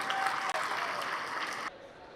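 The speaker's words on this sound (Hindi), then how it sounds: "एक बार सर के लिए जोरदार तालियां हो जाए।" Brief burst of audience clapping at a coaching institute seminar in Patna, greeting a teacher; a steady crowd wash with some voices mixed in, cutting off abruptly after under two seconds.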